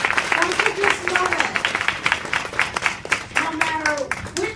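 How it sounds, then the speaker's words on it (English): Steady applause from an audience for candidates at a debate, a dense patter of many hands clapping continuously at moderate volume throughout. "A round of applause for these candidates"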